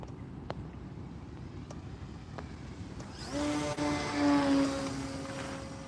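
A giant radio-controlled plane flies at minimum throttle, a steady low propeller drone swelling in from about three seconds with a rising whine and faint background ticks.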